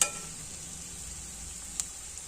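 Kinema, a dish of fermented soybeans, fries in a pan with a faint, steady sizzle. A single small click interrupts it partway through, and no one speaks.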